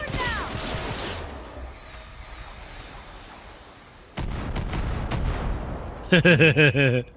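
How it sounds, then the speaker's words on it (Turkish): In the video game Far Cry 6, a rocket launcher fires during a ship operation with explosive blasts and booming shots, followed by a rapid burst of loud, harsh, tonal gunfire near the end. "Ben roket atarı gönderiyorum."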